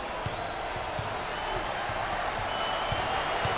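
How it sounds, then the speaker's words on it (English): A basketball arena crowd at a Wichita State at Kansas college game in the 2023-24 NCAA season, a dense steady roar of cheering and applause with scattered claps and shouts, loud and continuous throughout. "Listen to this crowd. Oh, there's all kinds of people standing and cheering and going wacky."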